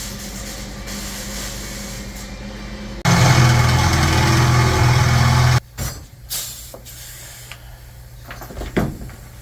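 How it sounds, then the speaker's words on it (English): Final welding on the steel angle-iron frame of a homemade Bombardier-style machine, a steady loud buzzing hiss lasting a few seconds amid workshop clatter and engine-like hum, then scattered bumps and knocks after it stops. "So Dad's just doing some final welding here."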